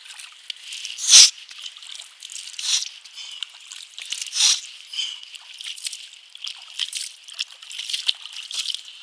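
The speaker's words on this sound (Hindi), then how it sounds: "आप उसको दाएं हाथ से इस तरह पानी नाक में चढ़ाएंगे और उल्टे हाथ से नाक को साफ़ करेंगे।" Water trickles and splashes close by as a hand rinses the nose during ritual ablution, with soft sloshing dribbles and one sharper splash early on, steady and fairly quiet with no talking.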